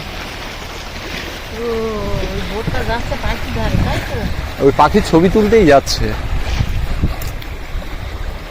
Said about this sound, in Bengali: এই বোটটা হাই স্পিডে গেল শুধু ওই পাখিগুলো ধারে যাবে বলে আর যে কারণে ঢেউটা হচ্ছে